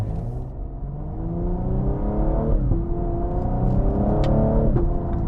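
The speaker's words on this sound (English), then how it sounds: "The exhaust sounds really good too." A 2023 Cadillac CT5-V's exhaust drones and rises as the engine revs under acceleration, a steady, loud, close rumble with shifting pitch and no speech.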